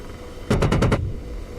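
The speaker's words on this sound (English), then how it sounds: "It points the gun and I shoot that big 30mm thing at them." A 30mm aircraft cannon in the DCS flight simulator fires a single short burst of about five rapid, loud rounds at ground targets, followed by a low rumbling tail.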